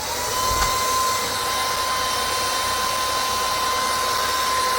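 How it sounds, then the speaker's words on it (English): A small handheld mini car vacuum runs on its high setting, pushing air out, making a steady, loud, close whine and rushing hiss that stays constant throughout with a thin tonal whistle riding on top. "You see that it blows pretty good wind."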